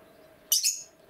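A pet budgerigar gives a short, bright chirp indoors, a single high burst of about half a second against a quiet room with a faint steady hum.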